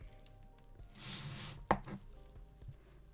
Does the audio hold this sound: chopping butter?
yes